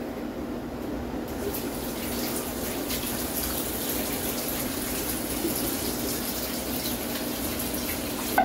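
A kitchen tap runs steadily for hand washing during turkey brining prep, a loud, continuous close gush of water with no talking.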